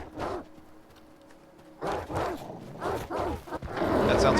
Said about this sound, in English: That sounds like a pseudo dog.